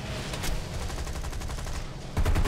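Aircraft gunner's machine guns firing in War Thunder, a steady rattling stream of rapid shots throughout, ending with a louder, heavier burst.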